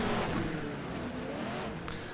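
Race car engines in the iRacing sim, a steady close drone of cars battling wheel to wheel, holding a constant loud pitch throughout with a faint sharp edge near the end.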